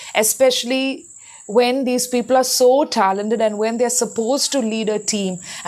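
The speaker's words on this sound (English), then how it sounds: "I'm sorry if you get to hear some crickets in the background." Crickets chirp steadily in the background, a faint high-pitched trill running under a person's continuous close speech.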